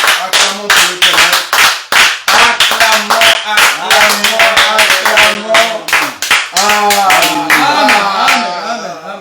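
A worship congregation at an assembly in Brussels claps in rhythmic unison, a dense, steady run of hand claps over roughly nine seconds, with singing voices and a few shouts rising beneath and between the claps.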